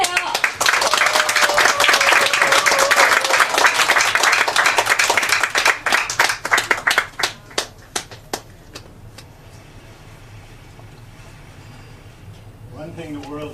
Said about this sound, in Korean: 여러분 박수 보내주시면 그분이 나오십니다